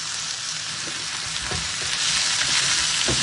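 Pork and mixed vegetables stir-fried in oil for sweet and sour pork, a steady loud sizzle with scattered clatters of stirring throughout, no voices.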